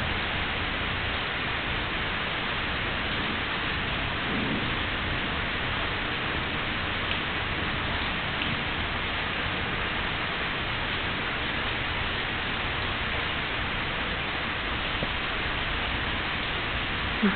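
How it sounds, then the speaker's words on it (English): Rain falls outside in a steady, even hiss that continues unbroken for the whole stretch at moderate level, with no voices or other distinct sounds over it. "it's raining outside"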